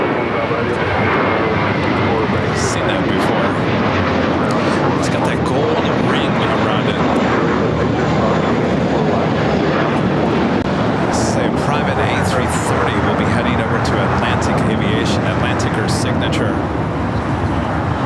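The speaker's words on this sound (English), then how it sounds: "Moss getting ready for takeoff on 25 left." Airliner jet engines roar loud and steady at LAX as a plane readies for takeoff on runway 25 left, a constant close drone with someone talking over it.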